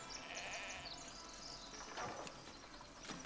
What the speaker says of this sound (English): He just sheared the poor sheep.